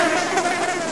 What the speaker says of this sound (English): Is exactly the sound a bush fly makes.